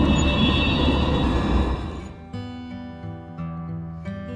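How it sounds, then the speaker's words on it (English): A tram or streetcar passing, with broad rumbling noise that fades and gives way to steady tonal hum and bell-like electrical tones, fairly loud and close, with no speech. "tram और streetcar, tram या streetcar"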